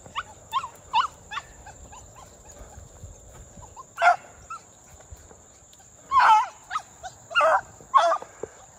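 A pack of hunting dogs barks and yips while running, with short bursts of barking spread irregularly over several seconds, at a moderate distance, and no talk.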